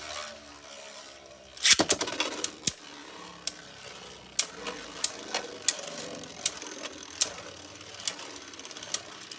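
Beyblade spinning tops, including Mirage Fafnir, battling in a stadium: a launch rattle followed by whirring and a series of sharp, irregular clicks and clacks from hits, close and alone.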